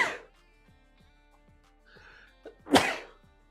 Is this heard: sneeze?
yes